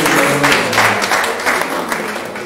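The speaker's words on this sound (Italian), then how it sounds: "facciamogli un altro applauso" Audience applause at a CineTalk panel during the 20th Lucania Film Festival, a short, full burst of many people clapping continuously with a few voices faintly underneath.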